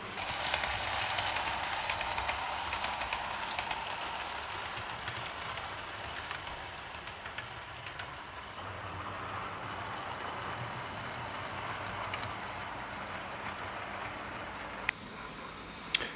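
A Schools class locomotive pulls blood-and-custard coaches past in a faint, steady rolling rumble with light clanks, and a couple of sharp knocks near the end.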